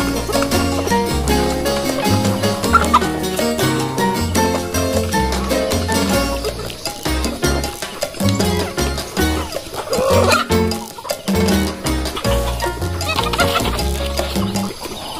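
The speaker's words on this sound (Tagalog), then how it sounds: "Gustong gusto din ito ng mga manok namin." Free-range native chickens on a farm cluck and chatter continuously at feeding time on wheat grain, a busy overlapping chorus of many birds close by, with occasional louder squawks.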